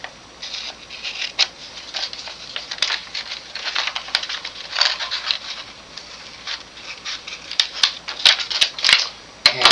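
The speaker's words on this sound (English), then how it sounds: "I'm going to cut those with my little scissors" Small scissors snipping paper, a run of quick, crisp close-up cuts with irregular gaps, some snips sharper than others, growing busier toward the end over a quiet room.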